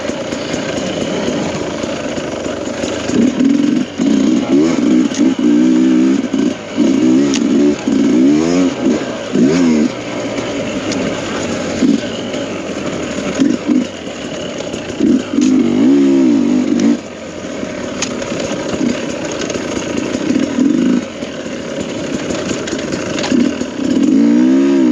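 A Sherco dirt bike, a 2023 carbureted model, runs loud and close, its engine idling and then revving repeatedly in rising and falling bursts across the whole stretch, with no other sounds competing.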